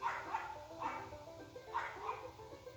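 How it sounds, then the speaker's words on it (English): A small dog barking in short bursts of two or three yips, a little distant and moderately faint, repeating at uneven intervals over a low background hum. "Ooh, that little dog."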